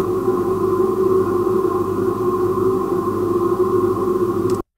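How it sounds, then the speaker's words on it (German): A steady electrical hum from an open refrigerator with a low drone, constant and close throughout, cutting off abruptly at the end. "Ich habe hier als erstes Beispiel einfach einen Kühlschrank aufgenommen"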